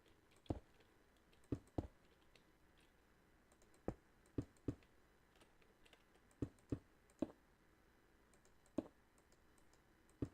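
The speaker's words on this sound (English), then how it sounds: "You probably hear my mouse clicking." Sharp isolated clicks of a computer mouse with a keyboard held on a lap, a dozen or so faint taps at uneven intervals over a quiet room.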